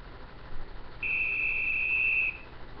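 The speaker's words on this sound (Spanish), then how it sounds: "Ahora el silbato." A single sustained high-pitched whistle tone from a Pocoyo cartoon lasting over a second, clear and close against a quiet background.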